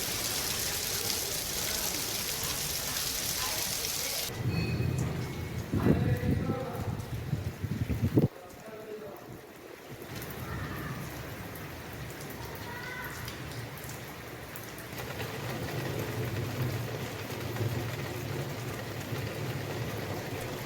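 Heavy rain falls in Bihar as a steady, dense hiss, with wind buffeting the microphone and a brief break midway before the downpour returns, loud and continuous throughout.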